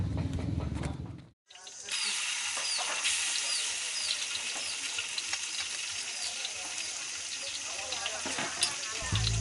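Ground spice paste for sayur gerotok sizzles steadily in hot oil in a pan, a dense continuous frying hiss with occasional stirring scrapes, heard alone after a brief pause.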